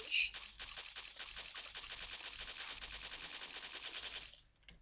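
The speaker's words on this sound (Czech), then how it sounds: "Já střílím na schvál." Rapid automatic gunfire from a multiplayer shooter video game, a steady loud burst of rattling shots lasting several seconds before cutting off.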